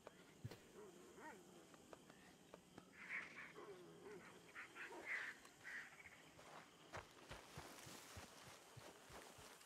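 A dog in the video game Red Dead Redemption 2 gives faint whimpers, soft yips and low growling noises over quiet game ambience.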